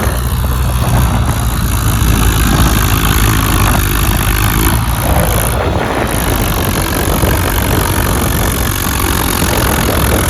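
A tractor engine runs loud and close, a dense steady rumble with a slight shift in tone midway, heard alone without talk.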